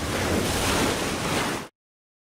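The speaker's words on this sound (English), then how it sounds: "A sudden and severe wind and rainstorm is ripping across Lake Erie." A sudden, severe wind and rainstorm rips across Lake Erie, a loud, dense roar of gusting wind and rain that holds steady and then cuts off abruptly.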